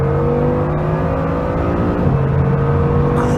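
A Bugatti Chiron with its W16 engine accelerates hard while joining the Autobahn, giving a loud, steady rising engine drone with whirring tones that climb in pitch near the end.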